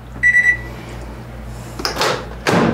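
A microwave oven heating a hamburger gives a short electronic beep, then a latch clunk and door sounds close by, over a steady low hum, with no talking.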